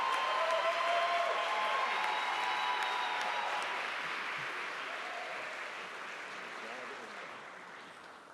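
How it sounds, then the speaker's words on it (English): Sustained applause from a commencement audience for Doctor of Education degree candidates at a fall graduate ceremony, a dense steady wash of clapping that slowly fades, with a voice faintly heard amid the crowd. "Join us in a round of applause for the Doctor of Education degree candidates"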